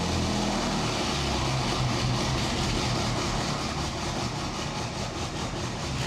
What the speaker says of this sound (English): So right now, the turbos are warming up, and it just sits for like a minute.